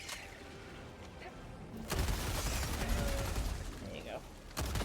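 Gunfire in a video game, a loud burst of shots and heavy booms starting partway through over a noisy background, with a voice speaking.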